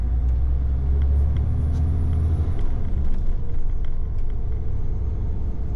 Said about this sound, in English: I hate driving over them train tracks.